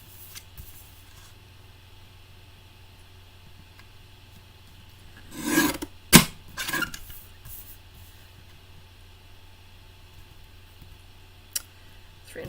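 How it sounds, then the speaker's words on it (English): A few brisk slicing strokes from a paper guillotine trimming cardstock, two or three close together, then quiet with one faint later click. "I'm just going to use my little guillotine, and I'm going to do a fairly arbitrary set of cuts"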